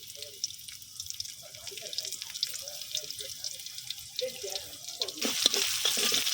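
Garlic browns in oil in a wok for a dal tempering, giving a soft continuous sizzle that rises to a louder crackling hiss near the end, with faint voices underneath.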